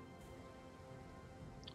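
Rain in the video game Total War: Three Kingdoms, a faint, steady hiss of falling rain with a low background hum, very quiet and continuous.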